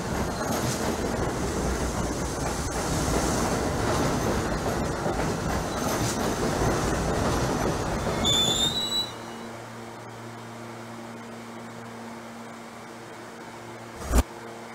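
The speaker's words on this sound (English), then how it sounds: "This is a Brooklyn-bound A train." A Brooklyn-bound A subway train in a Trainz Simulator 2012 video game rumbles and clatters steadily with a brief squeal, then the noise cuts out to a low hum, followed by a single sharp knock.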